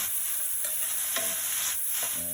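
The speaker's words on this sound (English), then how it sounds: "And we're going to just keep stirring it around." Prawns sizzle in a frying pan with lemon, garlic and rosemary while being stirred, making a constant close hiss broken by scraping and clinking strokes of the utensil.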